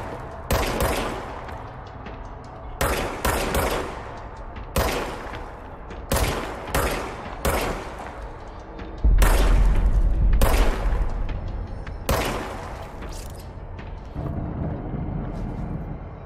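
Gunfire from the video game Control rings out in loud repeated bursts, sharp single shots and short volleys spaced across the stretch, with one longer heavy booming burst near the middle.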